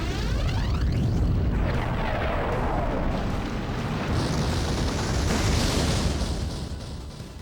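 A fire spell explodes in Grandia II, a long roaring, crackling blast that sustains loudly for several seconds before tapering off at the end.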